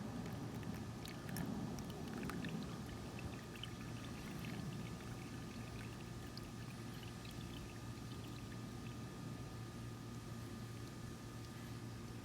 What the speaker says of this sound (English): I'm going to pour it in the center of the funnel, and the filter is already pre-wetted